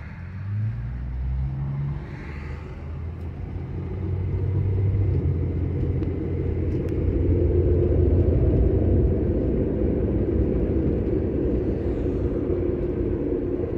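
A 1974 Dodge Dart, just revived after five years of sitting, pulls away and drives, its engine rumbling low and building steadily louder as it accelerates, heard from inside with no talk.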